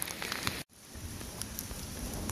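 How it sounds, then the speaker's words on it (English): Hail pelting the ground and a tent during a hailstorm at a High Sierra Trail campsite, a steady dense patter with brief sharp impacts, loud and close, broken by one short dropout near the start. "So it is hailing right now."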